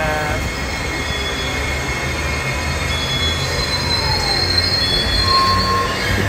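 Commuter rail train arriving at a station in Honolulu, with loud, continuous wheel squeal and rumbling rail noise throughout, close by and steady.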